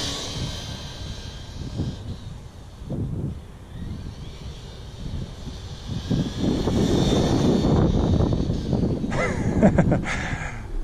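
A Traxxas TRX4 Bronco RC truck with a Hyrax 3S setup, 16T pinion, stock ESC and motor runs in second gear, its electric whine and rumbling tires rising and growing louder toward the end.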